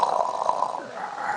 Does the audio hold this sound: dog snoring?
yes